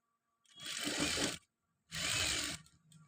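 A sewing machine stitching the shoulder joint of a chudidar runs in two close bursts of rapid whirring stitches, each about a second long, with a short pause between and a brief clatter at the end.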